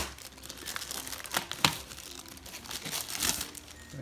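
A small plastic bag crinkles and crackles continuously up close as it is pulled off a Xiaomi Mi Portable 16-watt speaker during unboxing, with sharper rustling bursts along the way.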